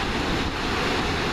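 A massive waterfall in an Icelandic canyon gives a constant loud, rushing roar with wind buffeting the microphone and no voices over it.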